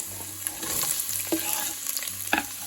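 Carrots, celery and onion cook in a pan with a bright, steady sizzle, while a spoon stirs and taps now and then over a low hum, no speech.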